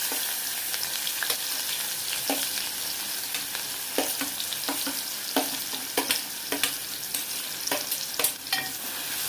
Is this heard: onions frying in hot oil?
yes